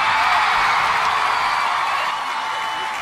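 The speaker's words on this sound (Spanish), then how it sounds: "Los espectadores seguían estando en silencio hasta que de inmediato gritan eufóricos." Euphoric cheering and shouting from a large crowd of spectators, a dense, sustained roar that stays loud and steady throughout without letting up.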